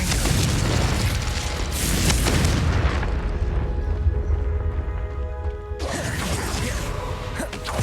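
Confringo explosive spell blasts in the Hogwarts Legacy video game: loud booming bursts near the start and again toward the end, with a rumbling, ringing lull between them.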